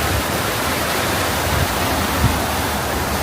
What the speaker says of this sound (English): Love the sound of that water.